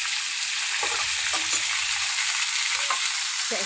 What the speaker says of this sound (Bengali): এখন মাছের ঝোলের জন্য আলু ভাজা হচ্ছে